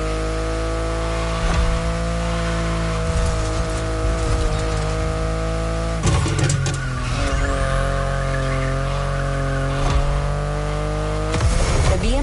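A BMW i8 in The Crew video game, its engine droning steadily with repeated bursts of tire squeal and skidding as it slides through turns, loud and close with no voices.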